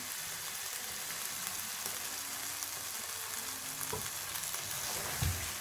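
Fried kebabs are gently stirred into cream in a pan, with a steady soft sizzle and occasional scrapes of the spoon, fairly quiet and close.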